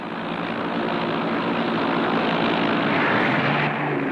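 American military aircraft in flight over South Vietnam during the Vietnam War, heard as a loud, continuous engine roar that holds steady for the whole stretch, with no voices over it.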